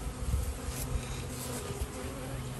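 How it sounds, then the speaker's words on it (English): Honey bees buzz around an open top bar hive during a package installation, a steady dense drone at close range with no talk over it. "Get the bees out of the way."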